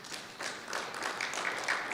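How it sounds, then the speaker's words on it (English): An audience at a visualization conference applauds after a presentation, a steady, moderately faint patter of many hands clapping that runs for a couple of seconds. "Let's give some more applause to Guihua Xuan."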